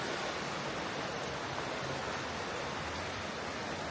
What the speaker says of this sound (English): All these little waterfalls through here.